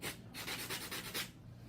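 Rapid, faint rasping strokes of a nail file shaping natural curve nail tips, about eight quick back-and-forth rubs in a close, quiet rhythm.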